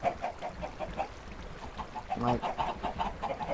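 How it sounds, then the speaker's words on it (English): Minecraft chickens clucking on a video game farm, a steady run of short, high clucks repeating about every quarter second, with a brief voice heard near the start. "We'll just spawn chickens."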